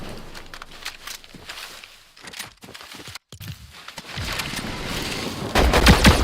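Gunfire in the video game Fortnite during a ranked Chapter 7 match, with irregular bursts of shots and impacts, some distant and some close, growing louder and denser toward the end.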